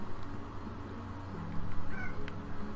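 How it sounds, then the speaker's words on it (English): Meowing from a large cat-like slime creature in the video game Slime Rancher, a few drawn-out calls rising over a steady background of game music and ambience. "That is a big kitty. And he's hungry."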